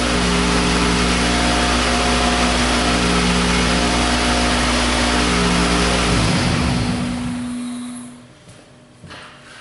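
A Toyota engine runs steadily with a loud, close hum after brake cleaner is sprayed into the throttle body, then stumbles and dies away toward silence near the end.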